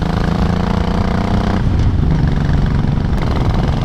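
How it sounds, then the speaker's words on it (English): A Buell Blast motorcycle engine drones continuously and loudly while riding, with a steady low buzzing rumble and wind noise, no talking. "I do like the way this bike sounds."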